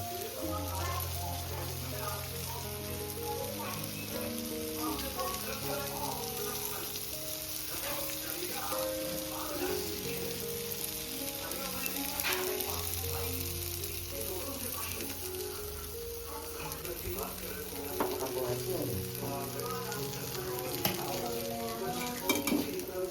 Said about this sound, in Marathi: इकडं तुम्ही बघू शकता अशा प्रकारे आपली कोलंबी फ्राय रेडी झालेली आहे